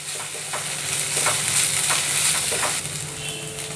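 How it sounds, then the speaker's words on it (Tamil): Ginger garlic paste sizzles and fries in a pan while being stirred for a coconut milk prawn thokku, a steady close hiss with faint scraping strokes and no voices. "நல்லா வதக்கிக்கோங்க. இதோடைய பச்சை வாசனை போகிற வரைக்கும் இதை ஒரு 3 நிமிஷம்"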